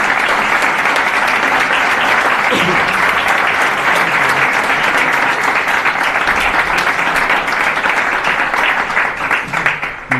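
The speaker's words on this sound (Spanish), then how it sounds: "Así que pido un aplauso fuerte para ustedes," Sustained loud applause and clapping from a crowd of party supporters at the inauguration of the Partido Popular headquarters in Morro Jable, steady and dense throughout.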